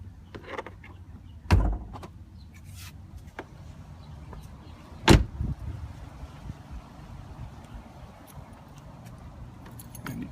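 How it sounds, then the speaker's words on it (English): Hood of a 2012 Ford Focus popped open: two separate sharp, close clunks of the release and latch, a few seconds apart, over a quiet background. "what I'll do is I'll pop the hood real quick"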